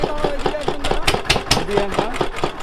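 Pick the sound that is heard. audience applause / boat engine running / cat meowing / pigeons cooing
boat engine running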